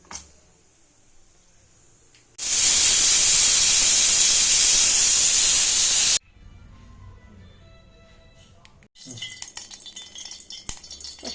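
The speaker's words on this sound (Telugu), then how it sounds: "కుక్కర్లో నాలుగు విజిల్స్ వచ్చే వరకు ఉడికించుకోవాలి" A pressure cooker cooking dal with tomato whistles a loud, steady burst of hissing steam for a few seconds, framed by quieter kitchen noise and clatter before and after.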